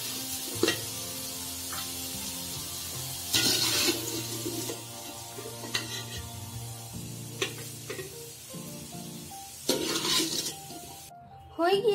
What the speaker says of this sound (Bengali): এখন আমি আলুগুলো তুলে নেব।